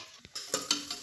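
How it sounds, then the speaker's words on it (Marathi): Chopped onion hits hot oil in a pan while cooking a chicken dish, setting off a sudden hiss of sizzling with a few light clinks and stirring scrapes, brief and close. "गरम झालं त्याच्यात कांदा टाकायचा"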